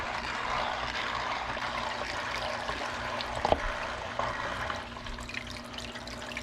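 A filter pump on a 125-gallon koi tank running with water flowing, a steady hum under continuous splashing and trickling, close, with a brief knock midway.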